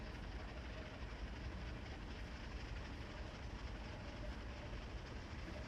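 Freight train in Train Sim World 4 hauling 160 loaded cars, pulling off a siding slightly over the speed limit: a steady, loud rolling rumble with wheel noise throughout and no talking.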